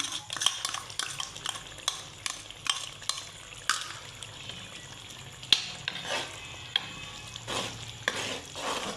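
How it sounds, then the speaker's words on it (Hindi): Onion masala with garlic-ginger paste sizzles and fries in a pan while a spoon scrapes and stirs in irregular strokes, clinking against the metal. "अब हम इसको तकरीबन 5 मिनट तक भूनेंगे।"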